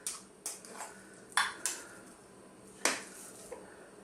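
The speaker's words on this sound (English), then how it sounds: "we're simply just now going to get some of our sweet corn parsley potato on the top" A spoon scoops sweetcorn parsley potato mash onto a vegan shepherd pie, with soft clinks against the dish and quiet scraping, several separate taps spaced irregularly, fairly close and gentle.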